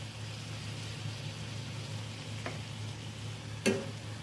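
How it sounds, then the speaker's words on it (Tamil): Chicken fry with added salt sizzling gently in a pan, a soft steady hiss with a low hum and a couple of faint clinks of a spoon stirring. "உப்பு ஆட் பண்ணிவிட்டு சின்னதாக நம்ம இலக்கி விட்டுக்கலாம்"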